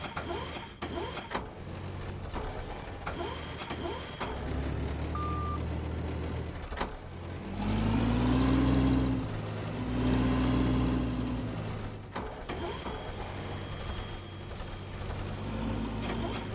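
A forklift engine in the game The Last Caretaker drones steadily with tonal hum, swelling louder mid-way as it drives, with intermittent beeps and mechanical clanks around it.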